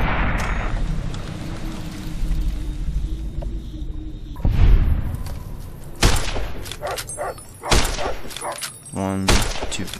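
Sharp varmint rifle shots from Fallout New Vegas, a few loud separate reports spaced over several seconds, each ringing out over game ambience with a voice talking underneath.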